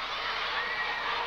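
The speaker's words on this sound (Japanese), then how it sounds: "今場内の歓声一段と高くなってまいりました。" Crowd cheering at a women's professional wrestling match, a dense, steady roar from a packed arena that holds level and loud throughout the short stretch.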